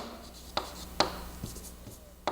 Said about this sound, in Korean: 좀 크게 써볼게요